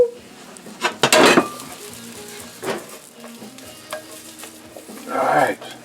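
Shiitake mushrooms frying in a pan with soft, intermittent sizzling and a few louder bursts of stirring and scraping against the pan.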